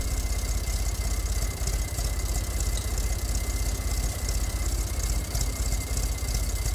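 Tractor engine idling and running steadily in Farming Simulator 22 with an Indian mod, a continuous loud low rumble with a rhythmic knocking pulse throughout and no talk.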